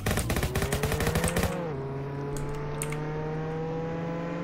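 Rapid automatic gunfire in the Roblox game Jailbreak: a loud, fast burst of shots for about a second and a half, then it stops, leaving a steady engine-like whir underneath.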